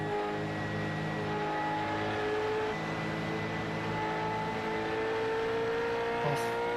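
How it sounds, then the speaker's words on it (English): Race car engines in a sim racing game at Watkins Glen drone in sustained, layered tones, shifting pitch as throttles ease and rise, with a faint higher whine near the end. "I just love listening to the way the drivers feather the throttle through that section."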